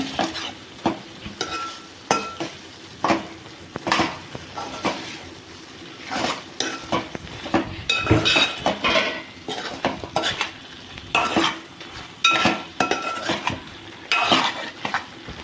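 Chicken pieces frying with ginger-garlic paste and masala in a pan, stirred hard so the spoon clanks and scrapes against the metal in a steady, busy rhythm over a constant sizzle, close and loud with no speech.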